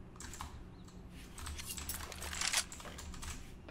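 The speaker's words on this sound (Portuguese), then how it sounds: "Toda vez que eu aperto Shift e Ctrl ali" Computer keyboard keys pressed in irregular bursts of clicks while gaming, with a few louder taps near the end; no talking.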